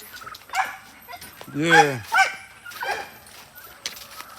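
Dogs from a home breeding setup bark and yip nearby, a loud rising whine-bark in the middle among scattered shorter yelps, while someone talks briefly over them.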